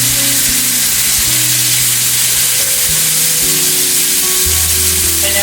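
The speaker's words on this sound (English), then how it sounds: "1 teaspoon of oyster sauce, and just stir fry the sauce" Oyster sauce stir-fried in a pan with barbecue sauce, a loud continuous close sizzle with low steady hum beneath, and no voices.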